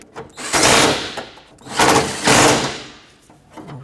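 A wrench snugs the bolts of a hatch window regulator on a 1996–2002 Toyota 4Runner, with a few loud ratcheting bursts separated by short pauses, close up and without speech.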